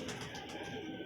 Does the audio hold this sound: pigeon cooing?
yes